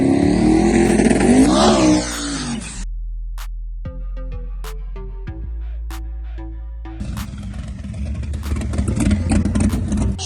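Drag race cars at a Street Outlaws event roar loudly down the track: a harsh revving burst, then a tonal engine drone with gear changes, then another broad roar as the cars pass, with no talk.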